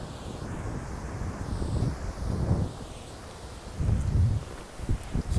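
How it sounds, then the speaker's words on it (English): Breezy wind buffets the microphone outdoors along a Scottish hiking trail, a steady low rumble that swells in gusts, loud and close, with no talking. "hopefully you can hear me, it's a bit breezy"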